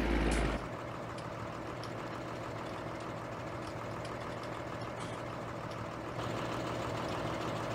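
A tractor engine in Landwirtschafts-Simulator 19 (Farming Simulator 19) on PS4 idles steadily with a low, rumbling drone, loud and close, briefly revving at the start.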